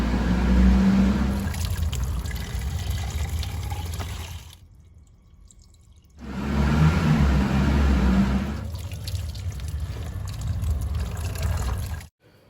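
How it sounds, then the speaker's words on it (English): Old coolant flushes from a 1999 Maruti Zen being poured into bottles, a close, continuous liquid pour in two long streams separated by a short pause, ending abruptly. "Now I am pouring all the old flushes in these bottles as and when they get consumed."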